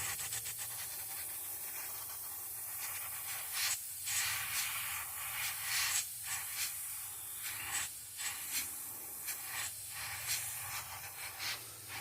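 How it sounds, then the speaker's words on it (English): An airbrush blows a steady stream of air to dry fresh paint on a model fish, a continuous soft hiss that swells and fades in short pulses throughout. "So I'll just probably just try to dry this with my airbrush."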